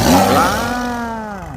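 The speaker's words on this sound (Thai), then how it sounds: "คำรามยาว" A long, deep roar that swells loudly and then slowly fades, its pitch bending downward as it trails off, heard alone without talking.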